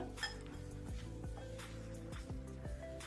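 Quiet, repeated clinks and scrapes of a utensil against a bowl as ingredients are stirred, in an irregular rhythm.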